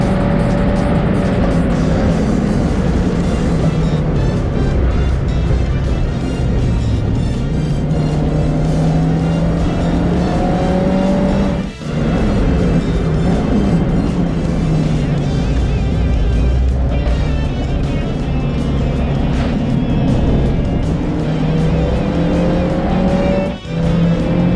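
A race car in a qualifying session fighting oversteer from the rear, its engine droning loud and constant with rising and falling revs, brief dips at gear changes and a tyre-scrubbing edge, heard from close on board.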